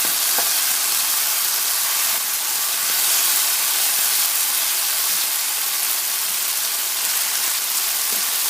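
Cauliflower rice frying in a pan gives a steady, close sizzle with soft scraping as it is stirred, continuous for the whole stretch with no talk.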